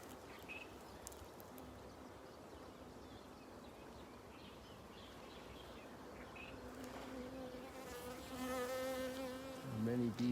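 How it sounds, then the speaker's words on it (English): Bees buzz around flowering plants outdoors, a faint steady insect hum under outdoor ambience, with a louder tonal drone swelling near the end as one passes close. "There are many bees in here."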